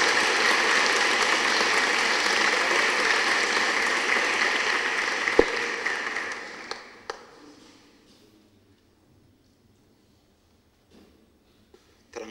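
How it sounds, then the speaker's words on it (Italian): Church congregation applauding in honour of the Madonna during a week of faith for S. Gerardo Maiella in Trevico, a full, sustained clapping that fades out after about seven seconds into near silence with a few faint knocks. "Magari facciamo un applauso alla nostra Madonna"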